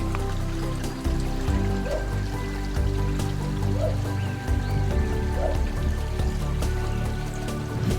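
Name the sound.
river flowing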